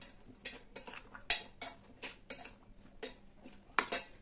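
A spoon mixes breakfast ingredients seasoned with oregano in a bowl, giving a run of bright metallic clinks and scrapes at an uneven rhythm. The sound is close and fairly quiet, with no voices.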